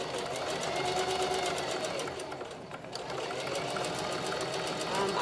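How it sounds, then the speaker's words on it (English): A sewing machine back stitching folded fabric, its fast mechanical whir running steadily and close throughout, with a brief dip midway and faint voices underneath. "I'm going to go ahead and just fold it together and sew it. Back stitch."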